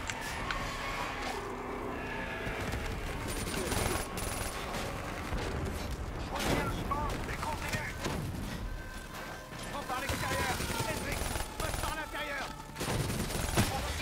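Rapid bursts of automatic gunfire and scattered shots crackle through a Black Ops 3 firefight, dense and continuous with crashes mixed in, while players talk over the action.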